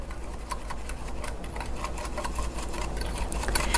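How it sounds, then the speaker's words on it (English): A whisk beats a tofu marinade in a bowl, giving a quick, steady series of light ticking clicks close by, continuous throughout with no talking. "I'll whisk this all together"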